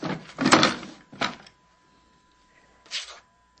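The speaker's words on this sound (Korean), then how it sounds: "다리는 서랍을 열고" A wooden drawer is pulled open as an audiobook sound effect, with a couple of scraping slides close up, then a short pause and a final softer slide or bump.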